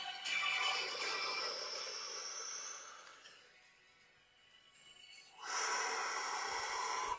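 Slow guided deep breathing, with long airy exhales at moderate loudness, a quieter pause in the middle, then another full breath; no talk.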